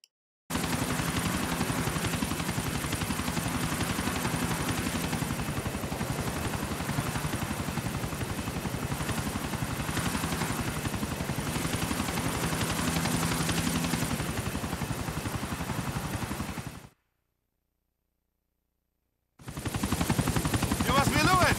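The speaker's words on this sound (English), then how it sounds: "Now, Luis is going to deliver the helicopter and the mission is done." Helicopter in the video game GTA 4 Ballad of Gay Tony, a loud steady rotor drone with rapid chopping pulses running continuously, cutting out briefly to silence before resuming.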